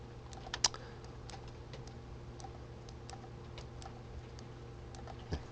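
Computer keyboard keys pressed during 3D modeling work in Maya, a steady run of light, close clicks with a few sharper taps, over a low constant hum and no talking.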